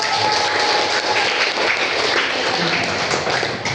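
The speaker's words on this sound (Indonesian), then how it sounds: "Bagus, tepuk tangan dulu." A classroom group claps hands together in a steady, dense patter of applause that fills the room and holds at an even loudness from start to finish, with no voices rising above it.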